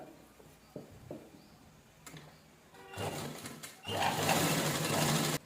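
A sewing machine double-stitches a princess blouse seam, starting with a few scattered clicks and taps, then running in two close, steady whirring bursts before stopping abruptly.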